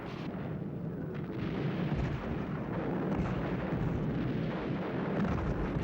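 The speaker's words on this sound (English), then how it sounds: "The ferocious barrage unleashed on the German defensive perimeter" Artillery barrage against a German defensive perimeter in the Battle of Berlin: a continuous heavy rumble of overlapping explosions, dense and loud throughout with no clear gaps.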